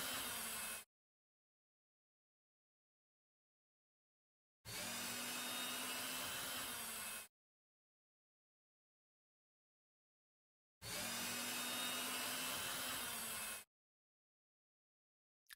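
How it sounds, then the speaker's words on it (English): A power drill boring pilot holes through a post, with three separate bursts of steady whirring, each a few seconds long, separated by silence. "you can now drill pilot holes from both sides of the post to aid the drilling of the larger holes"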